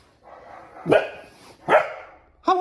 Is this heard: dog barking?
yes